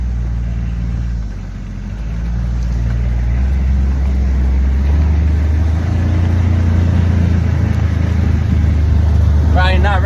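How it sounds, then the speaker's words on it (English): A UTV engine labors up a steep hill outdoors, a loud, steady low rumble that swells and holds with no break, close to the listener. "Probably not recommended to drive a UTV up a sharp hill with one hand"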